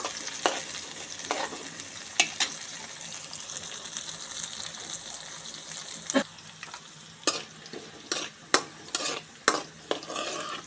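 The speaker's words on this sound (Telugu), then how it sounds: "మంచిగా వేగుతున్నాయి కాకరకాయలు ఇలా వేగాలి కొంచెం కలర్ వచ్చిన తర్వాత తీసేద్దాం" Bitter gourd pieces fry in oil with a quiet, steady sizzle, broken by sharp scraping stirs that grow more frequent and louder in the second half.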